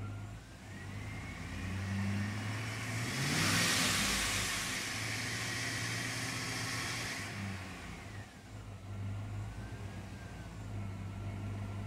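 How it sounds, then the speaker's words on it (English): A Chevy Tahoe engine with low oil pressure, idling and then revved up as gas is given, a steady mid-level hum that swells into a sustained rev for several seconds before dropping back to idle. "Give it some gas."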